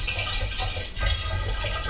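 Homemade mead, a honey wine, is poured into a glass for tasting, producing a continuous gentle liquid trickle and splash that stays close and even for about two seconds.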